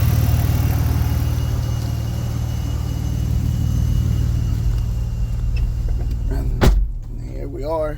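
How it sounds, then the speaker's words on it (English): Mazda MPV engine idling smoothly, a steady low hum that carries on evenly before a sharp click near the end, after which the rumble drops lower and a voice speaks briefly. "The engine is running pretty good. It's not shaking. It's pretty smooth."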